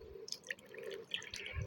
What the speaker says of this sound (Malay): sekarang kita punya konjaku jelly ni dah ready dah untuk kita salin dekat acuan